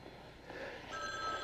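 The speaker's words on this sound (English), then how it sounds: "phone is driving me crazy" A telephone rings indoors at night, a steady electronic tone that grows a little louder after the first second and carries on alone with no talk over it.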